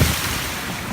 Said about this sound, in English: so I figured I'd stop at the waterfall here, kind of cool off